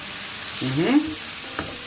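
Pork menudo with vegetables and liver sizzles and gets stirred in a hot pan, a steady frying hiss with a soft scrape of the spoon midway, close and moderately loud, with a brief voice.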